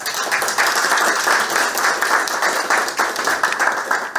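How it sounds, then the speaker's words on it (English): Officials at a handover ceremony for Kenya's first woman Attorney General give a round of applause, a continuous, moderately loud patter of many hands clapping for several seconds. "I think we give our clap."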